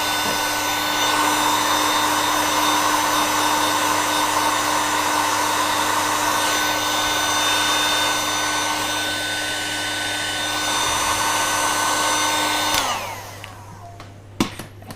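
A heat gun blowing steadily close by to warm chocolate for peanut truffles, a loud even whine and rush of air that cuts off near the end, followed by a couple of small knocks.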